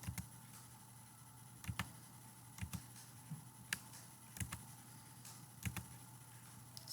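Calculator buttons pressed one after another make quiet, sparse clicks, about eight irregular taps over several seconds against a faint hiss.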